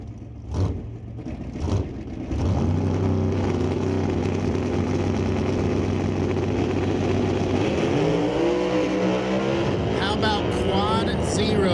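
A drag racing car at the NHRA Canadian Sportsnationals divisional qualifying leaves the starting line with a loud, sustained engine roar that rises in pitch as it pulls away, under an announcer's commentary and a crowd-filled track ambience.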